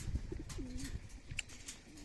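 A racing pigeon coos softly a couple of times against faint background noise, with a few brief chirps mixed in.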